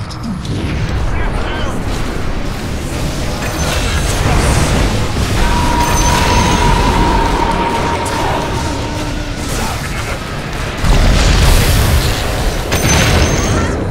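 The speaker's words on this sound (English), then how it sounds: "Explosions!" Loud, continuous booming blasts and rumbling explosions from a ranked Dota 2 match played as Techies, dense and layered, with a brief tonal whine in the middle.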